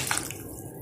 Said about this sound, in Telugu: నేను ఇప్పుడు రెండు గ్లాసుల వాటర్ ని యాడ్ చేస్తున్నాను